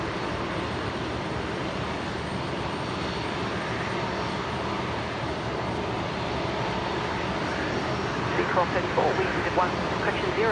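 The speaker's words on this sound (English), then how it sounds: "There is the Air New Zealand Dreamliner." An Air New Zealand Boeing 787 Dreamliner passes at Brisbane International Airport as a broad, steady jet roar fills the whole span, with a few chirps rising near the end.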